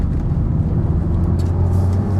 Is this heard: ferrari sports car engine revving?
yes